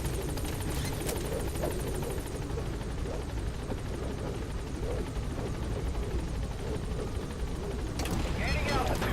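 Helicopter rotor noise from the Pequod in Metal Gear Solid V: The Phantom Pain, a loud continuous thumping roar under radio-style speech as the aircraft arrives at a landing zone, with a brief burst of gunfire.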